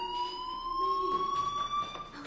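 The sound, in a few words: school fire alarm ringing, from video game Life Is Strange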